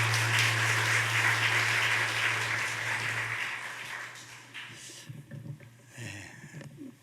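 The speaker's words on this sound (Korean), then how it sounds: "한번 크게 박수하겠습니다." A church congregation claps together in a broad, dense wash of applause that gradually fades out, with a few voices coming through as it dies down.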